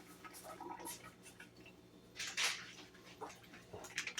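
Water poured from a container into a small pan on a stove while making strawberry freezer jam, a soft close splashing burst midway, quiet and brief amid faint kitchen handling.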